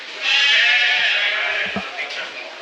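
A lamb at a livestock show and sale gives a loud, drawn-out quavering bleat near at hand, with crowd murmur and thumps underneath as it trails off.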